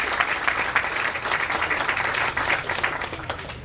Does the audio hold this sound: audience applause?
yes